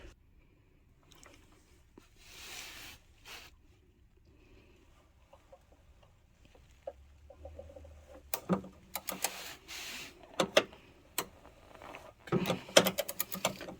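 Unscrewing the oil filter on a Fiat 500 gives mostly quiet rustling at first, then a burst of rapid ratchet clicks and metallic taps near the end, close by.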